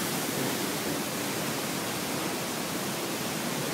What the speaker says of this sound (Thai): น้ำตกแรงมากอันนี้เล่นไม่